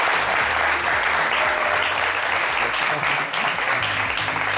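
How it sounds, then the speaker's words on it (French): A studio audience at a live show applauds a guest called Monsieur Oscar with heavy, continuous clapping, loud and dense from start to finish. "Monsieur Oscar, applaudissez Monsieur Oscar quand même."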